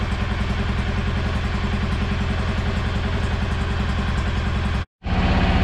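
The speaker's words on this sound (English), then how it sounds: "Yeah, it runs good, and I'm driving it, but it's idling a little high." A 2016 Kawasaki Mule 610 engine idles a little high after a valve adjustment, a loud, steady, close-up throb that cuts out for a split second near the end before resuming.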